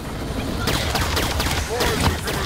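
Rapid weapon fire in the shooter Halo 5: Guardians, a steady stream of quick crackling shots with whooshing projectile streaks, moderately loud, with faint voice and game sounds around it.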